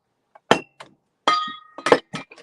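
An art glass container from an antique store clinks several times as it is handled, with bright, ringing glassy taps close by and no talk over them.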